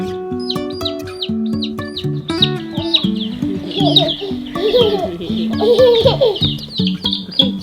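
Newly hatched chicks of an endangered chicken breed, hatched from eggs in an incubator, peep and chirp constantly, loud and close, while a person talks in the background.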